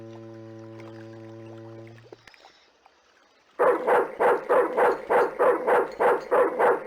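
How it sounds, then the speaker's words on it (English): A trained attack dog in the point-and-click adventure game Broken Sword 2: The Smoking Mirror barks about nine times in a steady, loud run of sharp barks, after a quiet stretch with a held musical tone. "Just remember, he's a trained attack dog."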